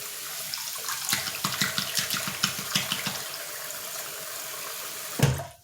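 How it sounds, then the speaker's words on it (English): Tap water runs steadily into a bathroom sink, a close, continuous splashing rush that stops abruptly near the end with a brief thump. "Fill up the sink so I can turn that water off."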